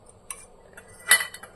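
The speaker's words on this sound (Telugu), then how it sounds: "ఈ కప్తో నేను రైస్ తీసుకుంటున్నాను." A measuring cup scoops brown rice from a container, giving a few faint scraping clicks and one sharper rattle of grains against the cup, with no voices.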